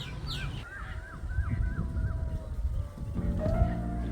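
Outdoor bird calls, a series of short honking, goose-like cries repeating quickly over a rumbling background of ambient noise.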